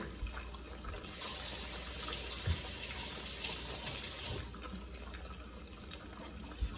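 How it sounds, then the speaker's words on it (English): Tap water runs steadily into a kitchen sink while hands are washed after cracking eggs for spicy bacon and egg fried rice, a continuous close rush of water with no talk. "Remember, always wash your hands after."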